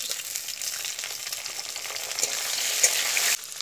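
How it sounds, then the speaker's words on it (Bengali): Potatoes fried until reddish with chopped tomato added sizzle steadily in a hot pan, with scraping stir strokes over a constant loud crackle and no voices, until the sound cuts off near the end. "আলুটা লাল লাল করে ভাজা হয়ে গেলে এর মধ্যে কিন্তু আমি অ্যাড করবো টমেটো কুচি"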